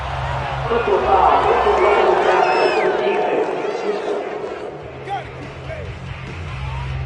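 Stadium crowd in a Madden football video game, Cardinals vs Colts, reacting to a roughing penalty call: a loud, steady roar of massed voices and babble that swells, dips slightly, then builds again.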